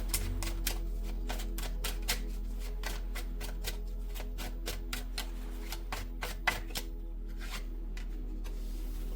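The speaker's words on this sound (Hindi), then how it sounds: "इन अभिमंत्रित डेक में से निकाल लेते हैं कुछ कार्ड्स" Tarot cards are drawn one after another from a deck, giving a fast run of crisp, papery flicks and light clicks up close. The rhythm holds steady throughout, and no one speaks.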